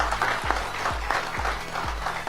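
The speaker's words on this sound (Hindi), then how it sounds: "एक बार जोरदार तालियां होनी चाहिए इस काम से।" Steady applause from a seminar audience in Gandhinagar fills the hall, with a dull rhythmic thump recurring about every half second beneath the clapping.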